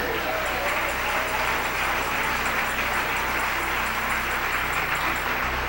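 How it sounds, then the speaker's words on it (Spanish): A church congregation applauds during a sermon, a continuous wash of clapping with crowd noise, steady and fairly loud for the whole stretch. "Dele ese aplauso al Rey."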